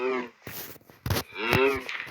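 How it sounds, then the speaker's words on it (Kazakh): A cow lets out two drawn-out moos in quick succession, loud and close, with a brief pause between them, in a block-building video game. "5 сиырымыз бар."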